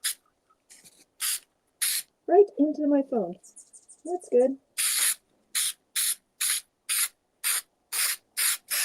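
Spray adhesive hisses out of a can in a series of short, sharp bursts, about a dozen evenly spaced sprays, close and loud, with a voice talking briefly between them.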